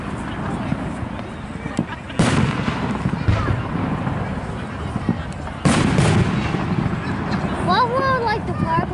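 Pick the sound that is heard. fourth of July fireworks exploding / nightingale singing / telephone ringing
fourth of July fireworks exploding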